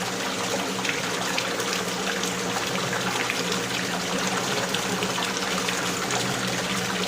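Water rushing loudly and continuously through a double-membrane water refilling station during backwash, a steady broad gushing flow with no breaks and no voices.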